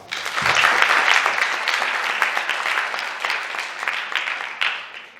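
Sustained applause from a lecture audience in a classroom setting, many hands clapping densely and steadily for about five seconds, fairly loud and close, with no talking over it.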